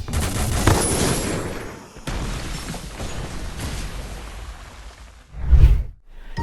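Gunfire at enemies in a video game, a dense stretch of rapid shots and whooshes with a short gap, then a louder burst near the end before dropping off.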